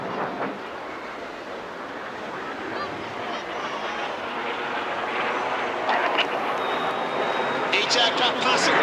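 Display aircraft passing overhead at the Clacton Airshow: a broad, steady roar that builds gradually across the clip, with a commentator talking over it throughout.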